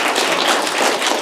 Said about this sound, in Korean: 여러분 박수 한번 쳐주자고요.